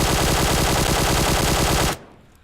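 A QBZ assault rifle fitted with a compensator fires in PUBG Mobile: a loud, sustained automatic burst of rapid shots for about two seconds, then it stops abruptly and only a faint tail remains.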